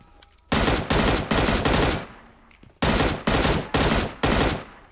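Automatic gunfire in the mobile shooter PUBG Mobile on a desert map: loud, sustained bursts of rapid shots, a long volley, a brief pause, then several more short close bursts.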